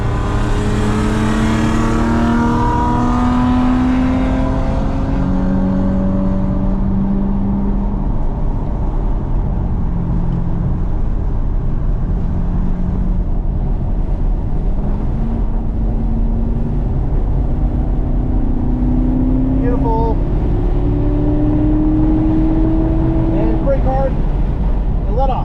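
A car laps a race track at Burt Brothers Motorpark with a loud, steady engine drone that rises and falls through gear shifts, while someone talks over it throughout.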